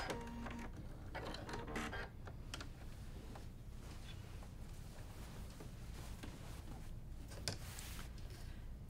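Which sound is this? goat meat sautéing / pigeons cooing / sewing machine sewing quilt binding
sewing machine sewing quilt binding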